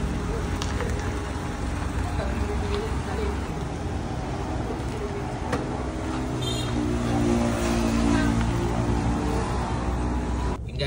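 Ford EcoSport on a road test after a broken timing belt was repaired, giving a steady engine and road rumble from inside the car with someone talking over it.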